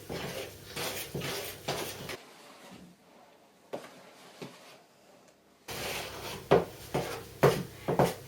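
A spoon mixes cupcake batter in a bowl with a rhythmic series of soft knocks and scrapes. It goes quiet for a few seconds partway through, then the strokes return stronger, with several sharper taps near the end.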